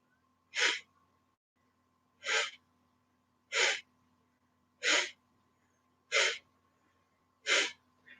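Six sharp, forceful breaths pumped from the navel during a breathing exercise, each a short, evenly spaced burst of air with quiet gaps between and no talking.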